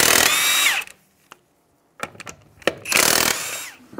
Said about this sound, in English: We'll go ahead and take off our lug nuts now.